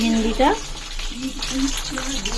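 Oil heating in a kadai gives a low, steady sizzle, close and continuous, with a voice talking over it.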